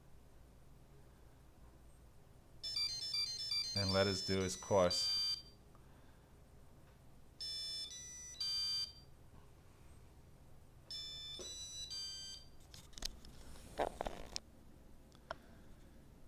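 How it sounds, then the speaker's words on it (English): A Traxxas Aton RC transmitter plays electronic beeping tones during a firmware update, in several bursts of rapid, warbling chirps separated by pauses, with someone speaking softly in between. "So that's the noise it makes when it's updating. That strange noise."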